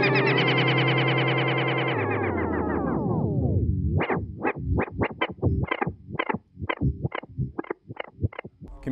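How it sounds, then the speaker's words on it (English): Boss ME-80 multi-effects unit set to oscillation delay on guitar: a sustained, swelling tone that slides downward, then breaks into a rapid series of repeating echo pulses that keep cycling, loud and alone. "One of our favorite settings, and kind of a really cool setting, is the oscillation delay, which sounds like this."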